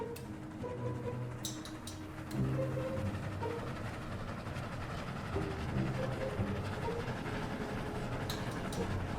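Train moving in the video game Dead Rails, a continuous rumbling rail roll with clattering wheel sounds, a swell in level partway through and a few sharp metallic ticks.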